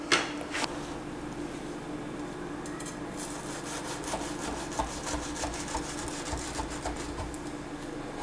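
A knife saws through a Kerala-style egg sandwich with a steady, faint rasping and rubbing, after a couple of sharp clicks at the start, with no voices.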